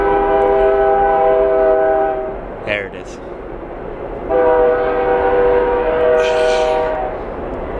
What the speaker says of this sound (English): there's a train going through town.